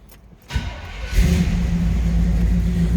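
Engine of a 1986 Chevrolet K20 4x4 regular-cab long-box pickup truck starting: a brief cranking whir, then the motor catches and settles into a loud, steady low rumbling idle close by.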